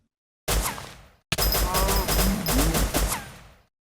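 Gunfire in the Minecraft mod Rust MC while shooting a bear, two bursts of rapid game gunshots, the second longer and sustained, loud and close with short silent gaps before, between and after.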